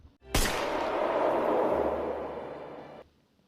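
A single gunshot in an anime scene, a sharp loud crack followed by a long whooshing, rumbling decay that cuts off abruptly about three seconds later.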